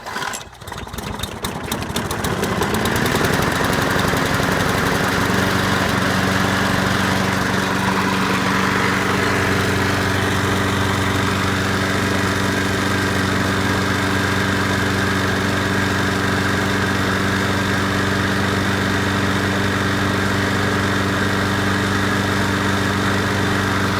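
A Craftsman Platinum 6.75 EZ Walk lawn mower engine starts up with a few sputters after its carburetor flooded, then settles into a steady, close, loud running drone that holds for the rest of the stretch.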